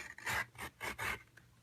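A paper trimmer blade sliding along crumb cake cardstock, giving four short rasping strokes in quick succession, close and fairly quiet, with no talk.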